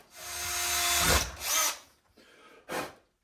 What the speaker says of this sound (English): clamp, drill a hole, put the screw in